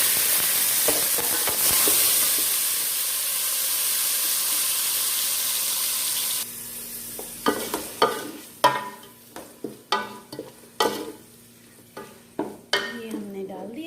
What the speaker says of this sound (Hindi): हमारा प्याज थोड़ा सा फ्राई हो गया। अब हम इसमें टमाटर और हरी मिर्च कटी हुई डाल देंगे